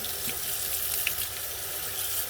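Tap water runs steadily into a bath for a Webkinz plush toy dog, a close, continuous rushing splash with no talking.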